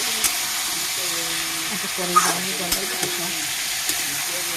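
Mixed vegetables and peas frying in a pan for a vegetarian dish, a continuous close sizzle and hiss with a few spoon scrapes and knocks as they are stirred, a voice speaking briefly over it.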